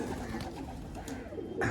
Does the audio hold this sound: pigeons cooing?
yes